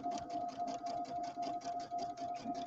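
A sewing machine stitching during a quilting and embroidery session: a fast, even run of needle strokes with a steady whirring motor hum, close and continuous.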